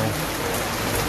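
Heavy rain falls in a dense, continuous hiss throughout, close and steady, with no voices.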